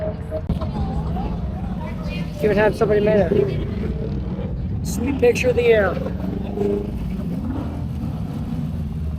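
A motorcycle engine revs in the background while someone talks over it, with crowd noise and other engines rumbling around at a large group bike meet in Omaha.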